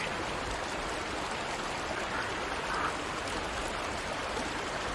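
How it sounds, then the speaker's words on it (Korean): River water flows steadily in a riverside film scene, a continuous broadband rush like a stream, loud and even throughout with no talk. "강물 소리가 이미 시끄럽게 나고 있기 때문에 작은 소리를 낼 수 있다고 말이죠."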